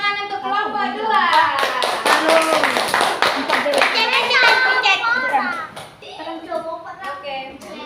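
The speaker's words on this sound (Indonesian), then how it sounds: "tepuk tangan untuk kelompok dua" Schoolchildren in a classroom clap for a group, a dense burst of small hands applauding close by with children's voices chattering over it; a teacher's voice comes in near the end.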